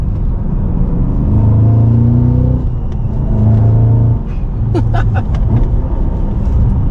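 A new 700 hp V8 manual luxury sedan accelerating, a loud low engine burble rising in pitch through gear changes, with road rumble beneath and a few sharp clicks near the end.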